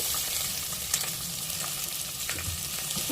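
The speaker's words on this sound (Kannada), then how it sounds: "ಇದನ್ನ ಇವಾಗ ನೋಡಿ ಸ್ವಲ್ಪ ಎಣ್ಣೆಲಿ ಚೆನ್ನಾಗಿ ಫ್ರೈ ಮಾಡ್ಕೊಳ್ಳೋಣ." Chopped onion and green chilli fry in oil with a soft, continuous sizzle, punctuated by a few light stirring clicks, heard close with no voices.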